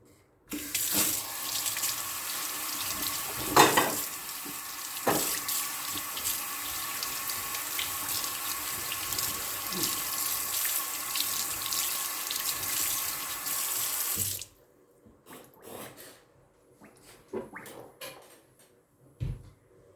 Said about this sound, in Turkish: Şimdi koyduktan sonra Ellerimi yıkayayım.